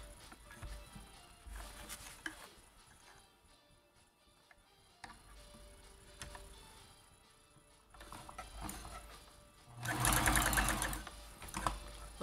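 A vintage Janome Combi DX 502 sewing machine stitches in bursts, its steady mechanical whir and rapid needle ticking rising to a loud, fast run near the end, heard up close with no speech.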